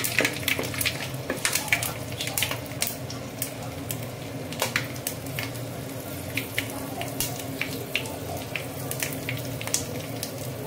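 Dry biryani spices frying in hot oil for coconut rice, a continuous close sizzle broken by frequent sharp crackles and pops, with no one speaking.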